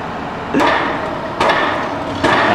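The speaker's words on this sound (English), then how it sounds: "I don't think we're gonna get so much sleep with all this banging going on out here." Banging outside at night, three loud hammer-like wooden whacks spaced roughly a second apart, each with a sharp attack and a lingering ring, close and prominent over a steady background hiss.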